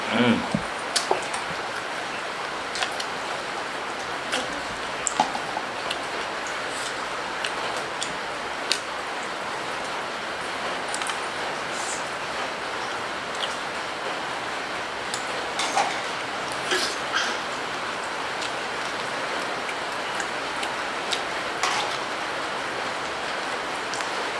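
Steady rain falling around the time of breaking the fast, a constant broadband wash with scattered drips and ticks throughout, fairly close and continuous, with no one speaking.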